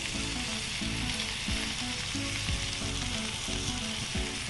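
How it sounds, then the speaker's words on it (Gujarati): A hot Thai sizzler plate with cutlets and brown sugar hisses and crackles loudly and continuously, a dense steady sizzle with faint stirring or scraping, and no voices. "સિઝલરનો જે સિઝલિંગ સાઉન્ડ હોય ને એ સાંભળીને જ આપણને સિઝલર ખાવા માટેની ભૂખ ઉઘડી જતી હોય છે"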